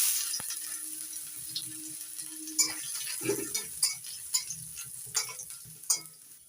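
Panch phoron spices and chopped ginger fry in hot oil with a soft continuous crackle and hiss, and a short run of spoon taps and stirring clinks lands at an uneven pace partway through. The sound is close and fairly quiet.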